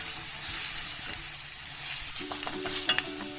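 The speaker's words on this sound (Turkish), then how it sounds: "bir yemek kaşığı biber salçamızı ekleyerek bununla da aynı şekilde kavuruyoruz." Red pepper paste sautés in a pan with a steady, dense sizzle throughout, then a few light scrapes and clicks of stirring near the end, and no talk.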